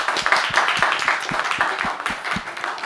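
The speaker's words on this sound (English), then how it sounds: "please give them a round of applause" A room of participants at a hate-speech rating workshop claps for a team, a close, dense burst of applause with a few distinct loud claps standing out, lasting about three seconds.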